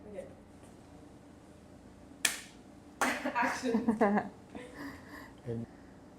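A single sharp film slate clap snaps out once, followed by a person speaking nearby.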